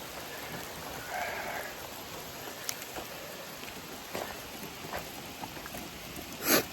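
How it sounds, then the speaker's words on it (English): Soft, steady patter of rain falling outdoors, with scattered sharper drops landing nearby and a louder splash near the end. "It is raining right now."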